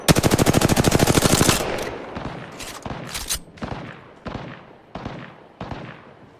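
Rapid automatic gunfire in a video game, a loud sustained burst of fast shots for about a second and a half, followed by several separate sharp single shots and short bursts spaced irregularly.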